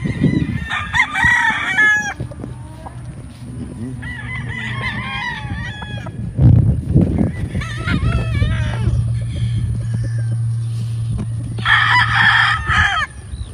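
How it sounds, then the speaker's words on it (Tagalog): Roosters crow repeatedly over clucking hens on a large farm, loud and close, with a steady low hum running underneath. "magagandang manok ito"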